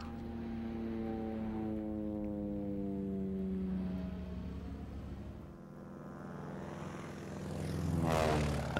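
Japanese propeller-driven warplanes of the Pearl Harbor attack drone overhead, a steady engine roar whose pitch slides downward as they pass, then swells loudly again near the end, with no talking.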